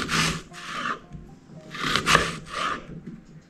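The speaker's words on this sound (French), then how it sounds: "je vais découper toute ma moitié de pomme" A straight kitchen knife cutting through half an apple, bursts of crisp scraping and rasping strokes in two paired groups, close and fairly quiet, with no talk.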